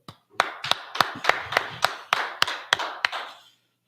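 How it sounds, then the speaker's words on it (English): A group claps together in a brisk, even rhythm, about ten sharp, loud hand claps in a row with no one talking, then the clapping stops. "So like, let's clap it up."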